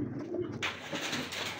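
Close, soft cooing from a pet pigeon rolls in a low continuous burble, with a sharper rustle partway through.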